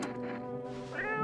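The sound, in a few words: cat meowing in a video game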